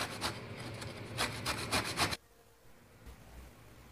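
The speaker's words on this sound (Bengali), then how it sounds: "এরপর একটা কমলা লেবুকে ওপরের অংশটা গ্রেট করে নিতে হবে।" Orange peel is grated for zest for a Christmas fruit cake, producing quick, rough rasping strokes close by for about two seconds. The strokes then stop, leaving near silence.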